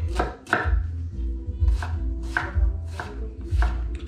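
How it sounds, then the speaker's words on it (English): Onions being chopped into small squares with a knife on a board, about six firm, evenly spaced chops landing close and clear beside hot olive oil, no talking. "Chop them."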